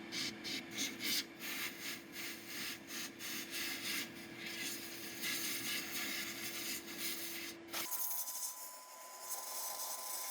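A brush scrubs up and down inside a soot-lined exhaust pipe of an Aqua Hot heater's combustion chamber, giving quiet rhythmic scraping strokes over a steady tonal hum that cuts off near the end.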